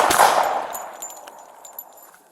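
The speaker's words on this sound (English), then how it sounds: "Shots fired." A gunshot recorded on a police bodycam during a standoff: one sharp, loud report at the start, followed by a long, fading echo and a few faint clinks.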